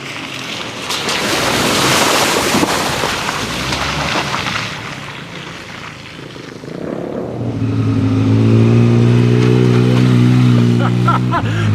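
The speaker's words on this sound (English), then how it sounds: "That's the hill descent control, braking the wheels to make sure that I'm not going too fast and I'm getting as much traction as possible." 2014 Subaru Forester XT descending off road through mud with hill descent control braking the wheels: a loud rushing roar at first, then a steady droning engine tone with stacked harmonics in the second half, no talk.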